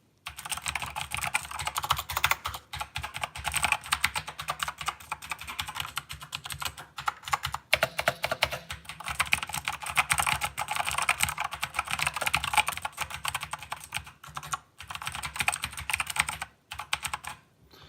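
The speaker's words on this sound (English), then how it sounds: "I'm going to give you a quick typing test." Steady, fast typing on an RII LED mechanical gaming keyboard with MX Blue switches, a dense stream of crisp clicky keystrokes heard close up with brief pauses, continuing for about eighteen seconds.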